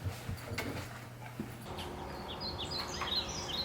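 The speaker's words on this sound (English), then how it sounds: "Can you hear the birds? What a great sound." Small birds twitter and chirp faintly in the distance, scattered high calls over a quiet outdoor background with a low hum early on.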